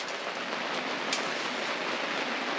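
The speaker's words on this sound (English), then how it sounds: "just chill out and listen to the rain" Rain falls steadily outside a log cabin at night as a broadband hiss, even and continuous, with no voices.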